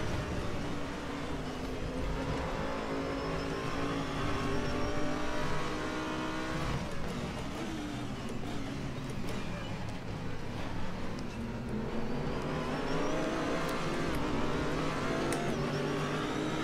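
A race car engine in the RaceRoom Racing Experience game revs and drones continuously as the car slides through corners, its pitch rising and falling with throttle changes.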